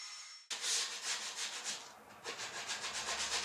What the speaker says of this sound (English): And I sanded the rest of the bench too.